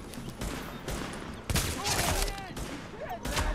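Gunfire in The Division video game, bursts of automatic shots and crackling fire in a continuous noisy battle, with brief speech mixed in.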